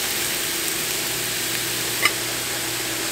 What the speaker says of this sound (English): the meat is down. It's just starting to cook